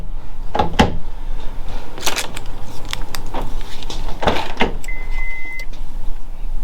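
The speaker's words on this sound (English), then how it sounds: "Now see, those door locks still work." Honda Civic door locks clunk and actuate in several quick mechanical thuds and clicks, close and loud, with a faint motor whine between them.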